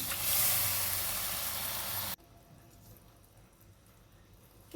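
Ground poppy seed paste hits hot oil in a pan, giving a loud steady sizzle for about two seconds that suddenly drops to a faint low simmer.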